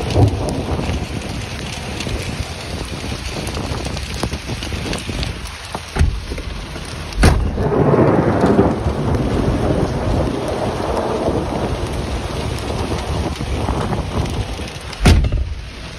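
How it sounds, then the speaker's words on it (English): A thunderstorm in the open, with heavy rain hissing steadily throughout and several loud, close cracks and rumbles of thunder, the biggest near the middle and end. "You don't want to be stood under this in a thunderstorm when there's thunder and lightning."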